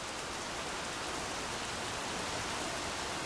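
Steady rain falls in Minecraft on the Origin Realms server, a soft, even hiss of drops on surfaces that holds constant and faint throughout with no other sounds.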